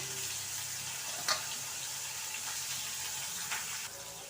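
Onions and chilies fry in a pan with a steady sizzle, a continuous bright hiss with a couple of small clicks or pops, no voices.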